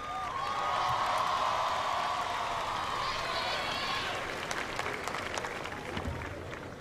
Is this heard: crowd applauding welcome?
yes